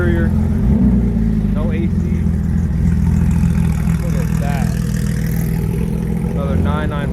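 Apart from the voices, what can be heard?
sports cars pulling out of a car meet lot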